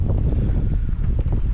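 Strong wind buffeting the microphone on a fishing outing, a loud low rumble with gusty fluctuations and faint water noise beneath, no voices.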